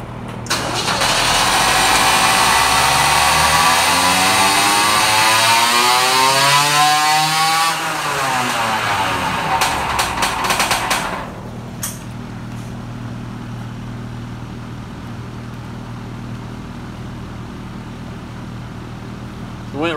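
A motorized bicycle engine with a stock CDI revs hard on a dyno, its high buzzing whine sweeping up and down for about eleven seconds before it drops back to a lower, steady idle.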